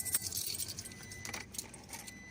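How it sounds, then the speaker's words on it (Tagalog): Toyota Hilux immobilizer (IBMS) key jangling on its ring, several bright metallic clinks and rattles, close and fairly quiet, with no talking. "Ito ang IBMS key."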